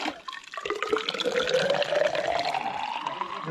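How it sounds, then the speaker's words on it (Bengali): Natural spring water pours steadily into a small bamboo bottle, a close, continuous splashing and trickling whose pitch rises as the bottle fills. "এই বোতল ভরছি দেখুন, ছোট্ট বাঁশের বোতল দেখি"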